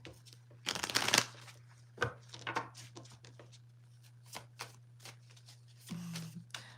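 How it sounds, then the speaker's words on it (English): Tarot cards are shuffled and riffled close up in several quick bursts, with soft handling and tapping between them over a steady low hum. "pull a few cards"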